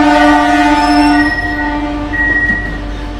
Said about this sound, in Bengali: এই হচ্ছে আমাদের ট্রেনের হল্ট